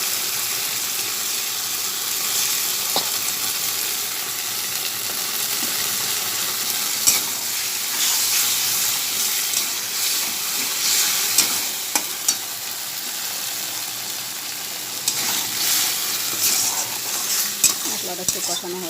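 Spice paste sizzles and fries steadily in a pan, with occasional clinks of a spoon stirring, loud and continuous throughout.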